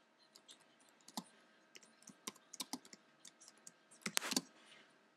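Terminal command typed on a computer keyboard while setting up OS X Lion on a G41M-ES2L board: quiet, irregular key clicks in short runs, ending with a louder burst of quick taps.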